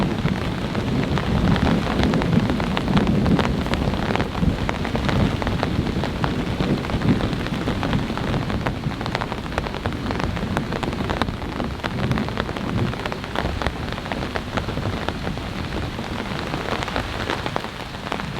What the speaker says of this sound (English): This is a moderate rainfall.